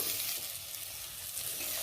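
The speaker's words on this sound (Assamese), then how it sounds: "এনেকৈ আমি 2-3 মিনিট সময় এইখিনি লো ফ্লেমত ভাজি থাকিব লাগিব।" Onions and capsicum frying on a low flame for kadai paneer, a steady close sizzle that holds at an even level throughout, with no talk over it.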